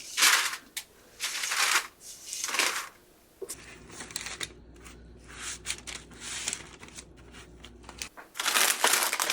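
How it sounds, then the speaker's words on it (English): Granola being spread and scraped across a parchment-lined baking sheet, close and dry with crinkly, rustling bursts of paper and clumps shuffling in short uneven strokes, pausing between passes. "Now I'm just going to put this onto a baking sheet with parchment paper."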